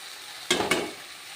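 Fenugreek leaves are tipped onto softened, cooked tomatoes in a pan for a methi dal and stirred, giving two quick, close scraping rustles over a soft, steady sizzle.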